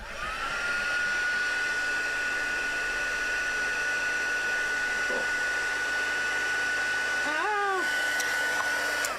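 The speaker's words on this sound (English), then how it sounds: "my heat gun. Move you out of the way. It's going to get noisy." Heat gun blowing steadily during paper-craft stamping, a loud, even whooshing roar with a faint high whine that runs the whole time, with a few brief clunks near the end.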